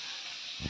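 Hot oil hisses steadily in a pan while fish curry is cooked without turmeric, a soft continuous sizzle ending in a short low thump.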